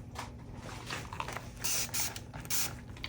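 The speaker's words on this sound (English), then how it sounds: "let me grab my spray bottle." Spray bottle misting alcohol over UV resin for a bookmark, heard as several short hissing bursts of spray over a faint steady background hum.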